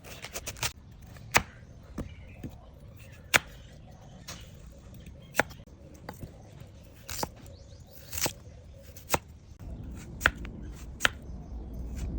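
A knife chops vegetables such as carrot, eggplant, cabbage and pumpkin on a board for a Thai steamed fish dish, with sharp, irregular cuts spaced about half a second to a second apart, fairly quiet with no talking.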